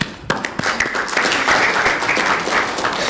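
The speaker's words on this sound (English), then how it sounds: "A round of applause, please." Applause from an audience at an Internet performance session of an AfNOG networking conference in Dakar, a broad steady wash of many hands clapping that swells after a few sharp early claps and holds for a few seconds.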